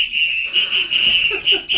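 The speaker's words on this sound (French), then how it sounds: "Il y a quelqu'un dans le public qui siffle pour Godin maintenant." A small Brazilian whistle is blown in a studio audience, giving a shrill, steady piercing tone in several short bursts with brief gaps, loud and fairly close.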